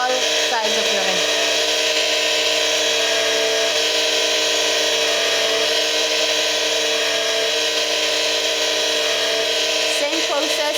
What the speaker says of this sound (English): You also turn your ring on the clear surface and polish it on that angle.